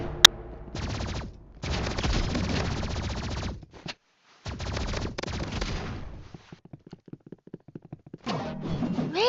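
Energy pistols fire in the video game Marvel Rivals: long, loud bursts of rapid gunfire broken by short silences, then a run of separate quick shots and a final volley.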